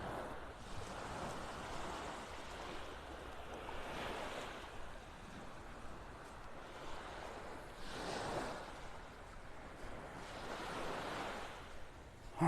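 Ocean surf rolling in at Delnor-Wiggins beach in North Naples, Florida, soft broad washes of breaking waves swelling every few seconds over a faint wind hiss, fairly distant and quiet, no voices.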